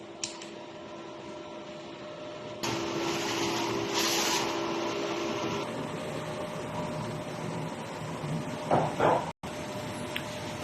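A DTF printer hums steadily, then kicks into a louder mechanical whir for a few seconds as it runs a nozzle test after a head clean, followed by a brief clatter before settling back to its idle hum.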